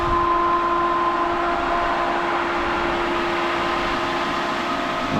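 A pool pump on a perimeter overflow pool runs after being started up for priming, a loud, steady mechanical drone with a constant tonal hum and whine, unchanging and close.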